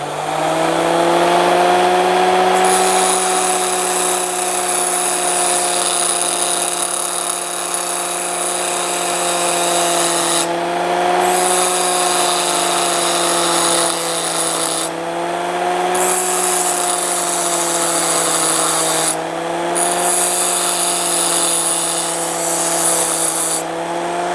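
A ToolMania bench grinder running at low RPM with a disc not made for metal cuts through a thick metal tube, giving a steady loud whine with harmonic tones that dips briefly a few times as pressure changes.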